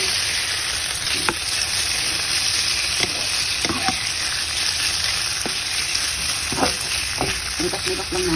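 Garlic and onion sautéing in a pan for Filipino pork adobo, with a loud, continuous close sizzle and scattered clicks of a spoon stirring against the pan throughout.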